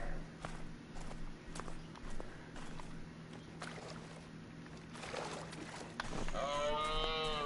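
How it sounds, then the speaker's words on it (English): A drawn-out mooing call rises near the end in The Hunter: Call of the Wild, heard over footsteps and quiet outdoor ambience on Askiy Ridge. "Sound like a moo cow."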